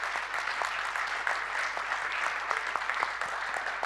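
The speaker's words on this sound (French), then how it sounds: "Est-ce que vous pouvez applaudir, madame, s'il vous plaît?" Steady audience applause at a talk on education against racism, a soft, even patter of many hands heard from some distance, with a few closer claps popping out of the wash.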